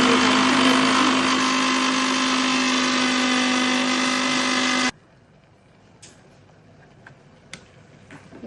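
A mixer grinder whirs loudly and steadily, grinding cumin seeds with salt and chili powder into a fine spice powder for ridge gourd curry, then cuts off abruptly, leaving a quiet kitchen with a few small clicks and knocks.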